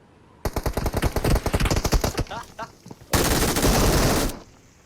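Automatic gunfire rattles in a shooter video game: a long run of rapid, evenly spaced shots, a short pause, then a dense sustained burst lasting over a second. Loud and close, with no talk over it.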